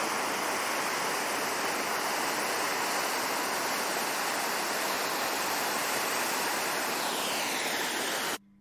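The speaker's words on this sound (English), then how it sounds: "This is just one of the waterfalls." A waterfall in Angola roars as a constant, loud, even rush of water, with no other sounds, until it cuts off abruptly at the end.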